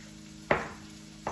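Roasted peppers being sliced for rajas with a knife on a cutting board: two separate sharp taps about three-quarters of a second apart, close and fairly quiet against a low background hum.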